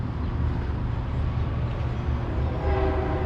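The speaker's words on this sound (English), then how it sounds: "So I thought I heard another train." A Metro-North commuter train passing near the Beacon station on the Hudson, a steady broadband rumble with wheel-on-rail noise that holds loud and close for the full stretch, with a faint tonal whine rising near the end.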